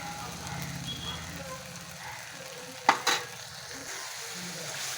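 Tomatoes and spices fry with a steady sizzle in a pan while a utensil stirs them, with a couple of sharp scraping knocks near the middle.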